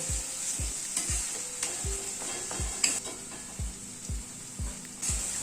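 Masala with kasuri methi frying and being stirred in a pan for chole, a steady sizzle broken by about ten regular low scrapes of a spatula against the pan, fairly close and with no talking.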